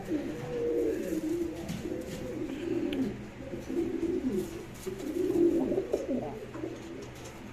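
Pigeons kept for sale in a loft coo in repeated low, throaty bursts throughout, moderately close and overlapping one another.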